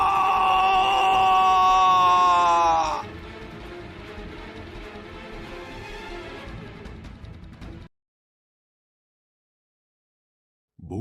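Men screaming in a horror story: a loud, wavering, drawn-out cry, followed by lower groaning voices that fade away into silence.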